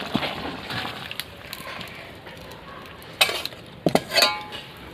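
A vegetarian jackfruit curry made with homegrown jackfruit is stirred in a pan after ground garam masala goes in. Soft scraping runs throughout, with a few sharp clinks of utensil on metal near the end.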